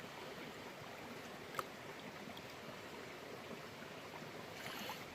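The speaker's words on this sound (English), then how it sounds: "just trying to pan a few of them off." Water sloshes and swirls steadily in a gold pan while sulfides are being panned off amid magnetite and hematite, a continuous close washing hiss with one brief sharp click, no talk.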